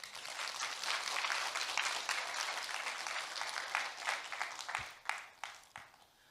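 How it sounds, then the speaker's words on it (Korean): Lecture audience in an auditorium clapping for several seconds, a dense, fairly quiet wash of applause that thins into scattered individual claps near the end. "우리 박수 한번 해드릴까요?"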